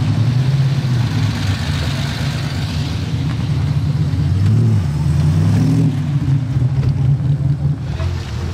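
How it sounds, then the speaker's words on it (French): A black Porsche Carrera GT supercar with its rear wing raised rumbles nearby at a supercar rally, a deep steady engine note with gentle swells of revving and no talk. "Carrera GT noir, ça fait plaisir hein, avec l'aileron levé."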